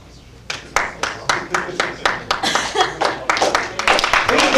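Audience members at a comedy roast clap in a series of sharp, distinct claps that grow denser and louder over a few seconds, fairly close, with no one speaking.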